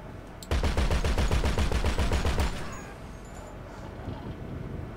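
Sustained automatic gunfire in GTA 5 Online in a snowy setting, a loud, rapid rhythmic burst of roughly twenty shots over two seconds, followed by quieter ambient game noise.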